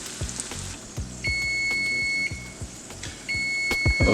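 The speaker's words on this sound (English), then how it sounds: "Okay, that's our 3-minute timer." A kitchen timer set for three minutes beeps in short high tones against the sizzle of falafel balls frying in a pan, the frying crackle steady underneath.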